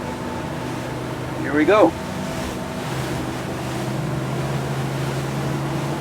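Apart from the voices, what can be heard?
Axopar 29 CCX boat speeding up to plane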